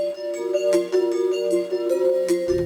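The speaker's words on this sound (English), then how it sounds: "I thought these ominous bells were sick." Ominous bell tones sampled from a retro video game soundtrack, sustained ringing pitches layered with quick metallic strikes in a steady pattern, loud and close with no voices.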